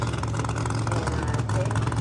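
Nitrous-fed drag racing car, the Sorcerer, idling loud and steady in the far lane at a dragway, a deep rumbling drone with an announcer-like voice over it.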